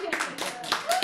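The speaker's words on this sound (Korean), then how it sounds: "박수를 칠 거냐?" Audience clapping at a Korean lecture on genes and choices, a few bursts of hand claps in an uneven rhythm, mixed with a speaking voice and crowd noise.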